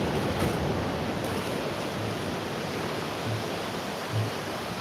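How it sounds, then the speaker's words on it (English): Small ocean waves washing onto the shore as a continuous soft rushing surf, faint and steady, with no speech. "if those waves are too noisy"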